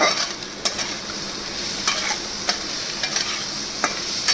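An egg fries in a hot wok, giving a continuous near sizzle broken by sharp, irregular scraping taps as a utensil stirs it.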